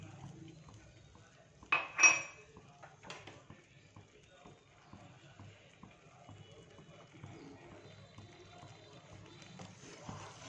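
A spoon scrapes and clinks against a pot as sugar and milk are stirred into rice for sweet zarda, a couple of sharper knocks early, then soft stirring under quiet talk.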